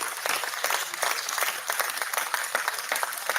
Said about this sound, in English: Clapping noises.